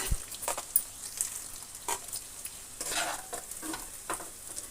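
Oil crackles and sizzles in a pan as food is stirred and fried for egg rice, with intermittent scraping stirs over a steady hiss, close and moderately loud.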